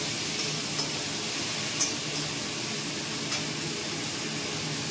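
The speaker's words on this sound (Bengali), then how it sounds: "এবার এটাকে ভালো করে একটু কষিয়ে দিই।" Small cut pieces of pumpkin and potato are sautéed in a pan, giving a steady, soft close-up sizzle with a few light clicks from stirring.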